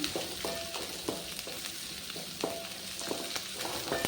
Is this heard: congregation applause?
no